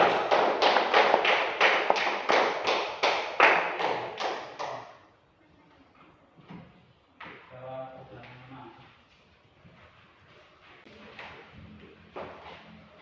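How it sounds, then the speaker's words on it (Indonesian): A classroom group gives applause to a student team, a dense burst of clapping hands with rhythmic pulses that fades out after about five seconds, leaving quiet room sounds and brief talk. "Beri tepuk tangan untuk kelompok 2"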